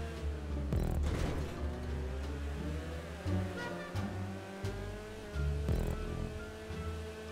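A tuned car accelerates in the video game GTA V Online, its engine droning and revving through gear changes with roaring surges and brief booms, loud and close, with no talk.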